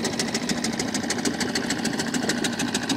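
A small boat engine runs slowly on the water during a clamming outing, a steady close chugging idle with a regular pulsing beat and no talk.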